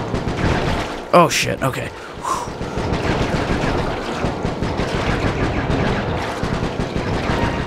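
Gunfire in the Sly 3: Honor Among Thieves video game while shooting from a moving vehicle, rapid continuous shots over a dense engine and action bed, with someone briefly talking early on.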